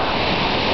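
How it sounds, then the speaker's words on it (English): Bridal Veil Falls roars as a dense, steady rush of falling water, loud and close, a continuous wash of noise with no voices. "We're approaching the falls."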